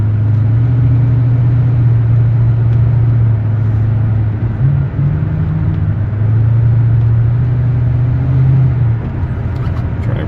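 A 1972 Cadillac Eldorado with a 500 cubic inch V8 cruises down the road with a loud, steady, low engine drone, a small dip in the middle and then a return to a constant hum.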